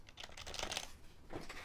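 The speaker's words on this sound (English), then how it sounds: "I guess we gotta pull off some keycaps" Keycaps being pulled off an older mechanical keyboard, a Pro 2, giving a faint cluster of quick plastic clicks and rattles, then a short pause and another brief burst of clicking.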